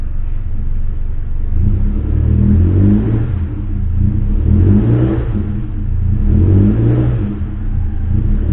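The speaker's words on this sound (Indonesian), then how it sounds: "Sambil digas beberapa kali." Engine of a Suzuki Jimny Katana revving during carbon cleaning of the cylinder head, a loud, close, continuous rumbling drone that swells and eases in slow waves.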